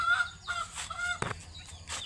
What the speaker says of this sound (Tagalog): Ayan o. Mga manok o.